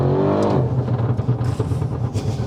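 An 830 BHP Audi RS6 C8 engine revs hard up close in a sharp rising burst, then settles into a rumbling, burbling idle.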